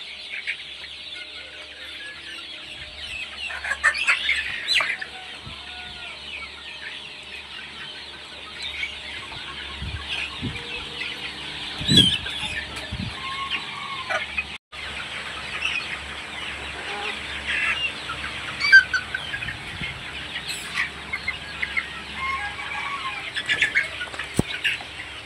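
A flock of chickens clucking and pecking while they eat feed laid out in rows, steady soft clucks with occasional wing flaps and scattered louder calls, no talking.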